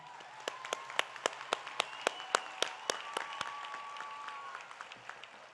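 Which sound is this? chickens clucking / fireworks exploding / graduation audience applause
graduation audience applause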